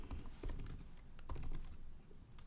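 Rapid typing on a computer keyboard while writing Node.js code, bursts of close, crisp key clicks in an uneven rhythm with short pauses between them.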